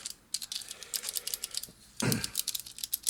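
Rapid, crisp clicking keystrokes on an affordable C64-style mechanical keyboard, close and fairly loud, with a brief soft rustle or thump midway before the typing resumes.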